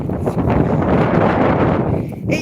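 Heavy wind buffets the microphone continuously, a loud rumbling roar with rustling texture and no clear pauses.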